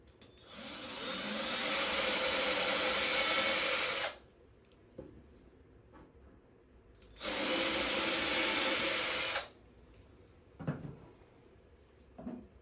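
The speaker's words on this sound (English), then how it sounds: "The next stage is to drill 2 small holes that we marked earlier for the screws" Two bursts of a power drill whining steadily for a few seconds each, drilling small screw holes for a mechanical twist doorbell, close up, separated by quiet pauses with small knocks and handling sounds.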